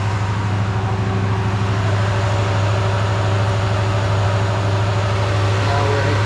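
A Dodge RAM 1500 engine idles with misfires close by, a loud, steady low drone with humming overtones and a faintly uneven pulse, running without pause.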